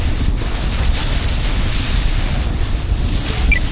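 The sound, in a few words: sea water moving as the ship rolls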